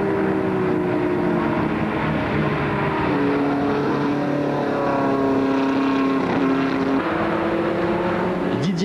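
VW Beetle race cars in a 1998 French Super VW Cup race, with engines droning loudly and pitch sweeping up and down through gear changes as cars push hard, tyres smoking, with a steady roar throughout.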